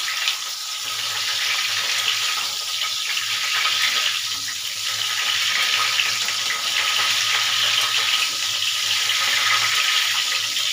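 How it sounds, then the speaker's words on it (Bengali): Cauliflower florets fry in hot oil for a Bengali cauliflower malai curry, giving a steady, close, loud sizzle that crackles continuously and evenly with no talking. "এবারে কপিগুলো লাল লাল করে এইভাবে ভেজে নিচ্ছি।"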